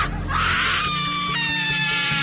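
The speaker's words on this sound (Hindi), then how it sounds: "उसके मुंह से एक ऐसी चीख निकली जो एक इंसान कभी सह ही नहीं सकता" A woman lets out a shrill, horrifying scream in a horror story set on a Mumbai local train, loud and sustained for about two seconds and wavering in pitch as it trails off.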